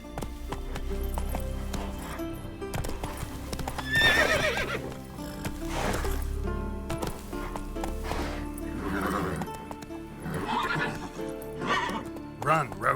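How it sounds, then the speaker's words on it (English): Roach, a horse in The Witcher 3, gallops with steady clip-clop hoofbeats and occasional whinnies, mixed with game music while someone speaks over it. "Run, Roach"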